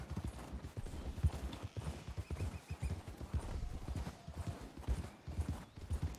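Horse hooves clip-clop steadily in Red Dead Redemption 2 as mounts travel toward a snowy mountain cougar den, the quiet, rhythmic hoofbeats plodding along at a close, even pace with little else around them.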